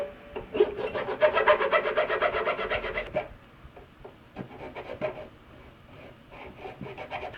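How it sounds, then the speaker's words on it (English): Nut slots on a Charvel acoustic guitar being filed, a rapid rhythmic rasp of strokes up close for about three seconds, then slower, scattered scraping strokes with pauses. "so now I've got all the nut slots filed down."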